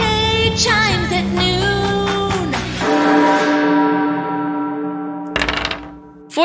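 A deep church-style bell tolls as a spell effect in a tabletop fantasy battle game, with several resonant strikes whose long ringing tones slowly fade, then a brief sharp thump near the end; no talking.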